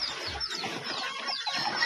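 A laying hen clucking close by in short, rapid murmured calls, with faint background noise and no talking.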